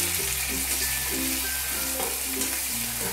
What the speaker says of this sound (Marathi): एक कांदा बारीक कापलेला फ्राय करून घ्यायचा आपल्याला